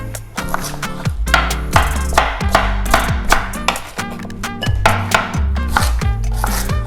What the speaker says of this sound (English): So I'll cut these potatoes up. So nice and small.